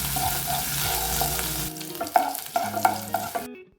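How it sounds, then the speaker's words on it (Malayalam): Garlic and ginger frying in oil in a pan, first a steady close sizzle, then a quieter spatter broken by scraping stir clinks before it cuts off abruptly. "ഇനി ഇതിനെ നമുക്ക് എണ്ണയിലിട്ട് നന്നായി ഒന്ന് മൂപ്പിച്ചെടുക്കണം"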